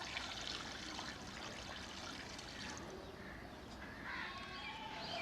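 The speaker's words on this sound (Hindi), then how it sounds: "एक जग हम इसमें पानी डाल रहे हैं।" Water poured from a jug into a karahi holding beef, a steady, soft splashing trickle heard close and fairly faint for several seconds.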